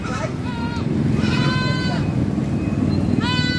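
Goats for sale at a Padre Garcia, Batangas livestock market give three loud, close, drawn-out bleats in quick succession against a steady crowd hubbub with voices around.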